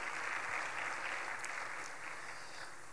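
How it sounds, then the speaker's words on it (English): Faint, distant applause from a summit audience applauding the advisory board, a steady hiss-like wash of clapping at low level with no speech over it. "another great round of applause for Advisory Board."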